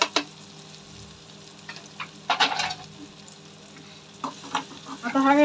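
Tomatoes and onions sautéed in a pan for a chickpea dish, a soft continuous sizzle broken by bursts of spoon scraping and stirring, close and moderate, with no talk.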